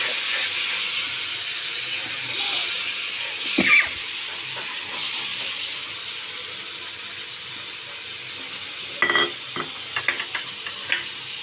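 Spice paste frying in hot oil for a hilsa fish and eggplant curry, a steady loud sizzling hiss with a few stirring clatters, no one talking.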